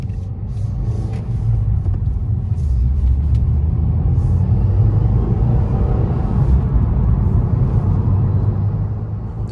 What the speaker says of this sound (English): Here we are driving the 2021 Subaru WRX.